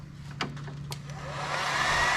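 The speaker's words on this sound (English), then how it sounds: "I wanna show you one of these right here, how they heat shrink and solder." A heat gun shrinking tubing over wiring on a 1991 Eagle Talon TSi with a 4G63 engine rises into a steady, loud blowing hiss after a few soft clicks and knocks.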